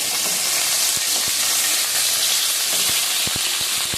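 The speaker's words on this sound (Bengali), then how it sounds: "নুন মাখিয়ে রেখেছি, নুন দিয়ে ভেজে নিলাম।" Salted pointed gourd sizzles loudly in hot oil, a dense steady frying hiss with several sharp pops and crackles scattered through it.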